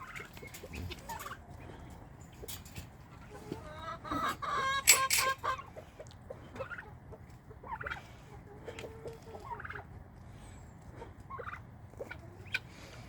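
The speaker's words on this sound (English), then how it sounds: "Watch that chicken." Backyard chickens cluck and squawk in a run, with scattered close calls and a louder burst of clucking midway, over a quiet outdoor background with no talk.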